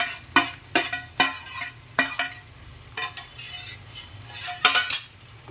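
Green okra goes into a hot pan for a North Karnataka–style bendi fry, with a steady frying hiss under a series of sharp metal clinks and scrapes from a spoon stirring against the pan, spaced about once a second.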